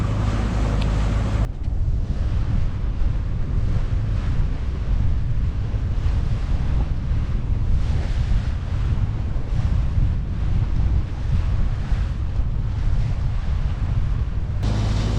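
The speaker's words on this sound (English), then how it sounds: "I'll be sheltered by the headland from these wind waves" Constant wind and breaking waves around a sailing boat heading toward the Dartmouth Music Festival, with loud buffeting gusts that drown everything else and no voices.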